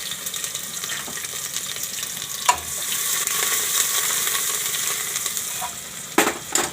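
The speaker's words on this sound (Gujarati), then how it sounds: "આમાં થોડોક આપણે ડુંગળીનો વઘાર કરશું પહેલાં" Chopped onions frying in hot oil as tempering for Kathiyawadi vaghareli khichdi sizzle steadily up close, with occasional spoon clinks and stirring scrapes, no voices.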